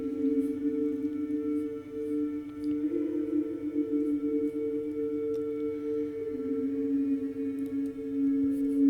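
A drawn-out, droning vocal ad-lib smeared by heavy reverb and granular synth plugins into a thick, reverberant wash with shimmering granular texture, steady and sustained with no clear words.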